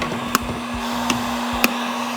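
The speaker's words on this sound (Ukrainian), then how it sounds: "Я взяв два будівельних фени. Кожен з них по 2 кВт." A steady blowing whine of a 2 kW construction heat gun running at full power, with a constant hum and a few light clicks or taps.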